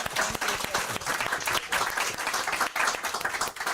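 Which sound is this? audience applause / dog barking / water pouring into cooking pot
audience applause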